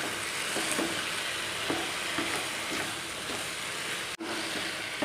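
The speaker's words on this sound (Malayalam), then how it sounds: "നെയ്യ് ഒഴിച്ചു കൊടുത്തതിന് ശേഷം നന്നായി ഒന്ന് മിക്സ് ചെയ്തെടുക്കുക." Tapioca sweet mixture with ghee stirred in a pan, a steady close sizzle with soft rhythmic scraping strokes throughout and no voices.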